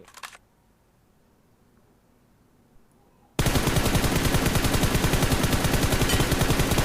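Rapid automatic gunfire from the PUBG Mobile video game erupts halfway through and continues as a loud, dense, evenly paced burst after quiet clicks, with no talking over it.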